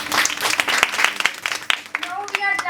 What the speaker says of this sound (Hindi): आज उनके लिए तालियों का तूफान हो।